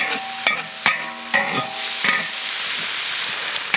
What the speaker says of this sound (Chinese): 这样炒，朋友们老是怕我把这个锅底给捅破了，其实不会的啦。